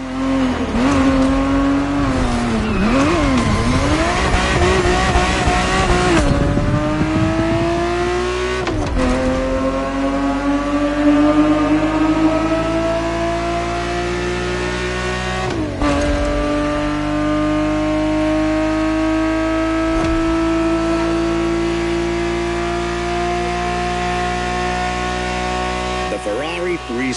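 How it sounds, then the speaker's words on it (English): A Ferrari 365 GTB4 engine races in The Crew Motorfest, revving hard and loud throughout with rising pitch sweeps and brief dips at gear shifts, while a voice talks over it. "Ferrari 365 GTB4 is the perfect vehicle for you to experience Ferrari racing as it felt back in the 70s."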